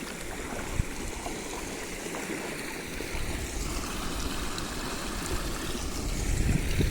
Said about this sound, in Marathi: पाणी असं चाललंय वीर धरणात वीर धरणातून चाललंय खाली ते जात आहे पंढरपूरकडं